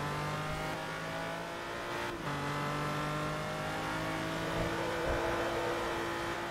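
A Lamborghini Miura engine in the racing game Forza Motorsport 3, droning steadily at high revs with a slight dip and recovery partway through, loud and continuous with no talk.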